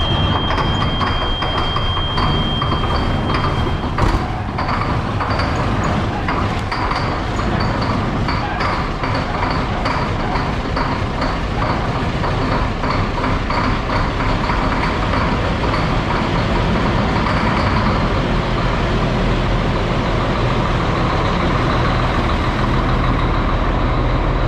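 A Peterbilt 352 cabover diesel truck engine cold-starts and rumbles loudly and steadily up close, with a rapid rattling knock running throughout.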